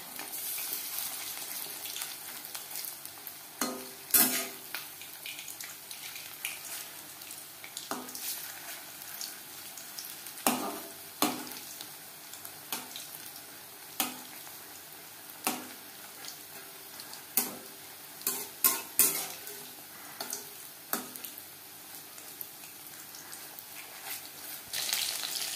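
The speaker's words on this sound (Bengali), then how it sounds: "আমি শ্যালো ফ্রাই করছি" Chicken chops shallow frying in a pan over medium flame, a steady sizzle with periodic clinks and scrapes from turning the pieces, close and moderately loud without talk.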